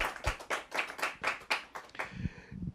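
A church congregation applauding after a scripture reading, a few rhythmic rounds of clapping with slightly uneven beats, fading out within a few seconds.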